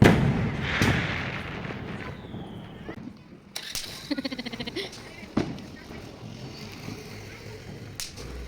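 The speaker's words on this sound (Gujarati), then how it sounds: "હવે શિવાંશને આવડી ગયા ફટાકડા ફોડતા હો" Diwali firecrackers bursting on a street: scattered sharp bangs, then a quick string of about a dozen rapid cracks and more single pops, heard nearby with people talking in between.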